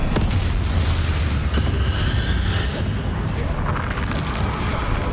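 A Bombarda spell explodes in Hogwarts Legacy with a loud, sustained booming rumble and crackling debris that wash through the whole stretch of combat.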